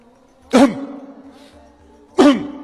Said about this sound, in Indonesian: Gimana cara berdehem yang benar?